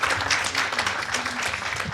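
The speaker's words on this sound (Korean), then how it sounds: "큰 박수로 환영해 주시기 바랍니다" An audience at a natural gas forum applauding to welcome a panelist, many hands clapping in a steady, fairly loud wash that fills the hall.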